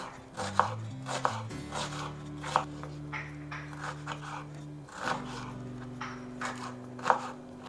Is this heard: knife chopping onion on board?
yes